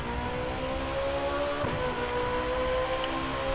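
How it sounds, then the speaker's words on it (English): Turbocharged car engine in The Crew 2 racing game, a steady droning hum with a brief whooshing surge midway, heard alone without talk. "Hear that turbo in the back."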